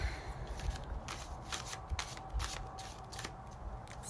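Tarot cards being shuffled and drawn by hand, a continuous soft riffling and sliding of card stock with quick flicks, close and fairly quiet, no talk.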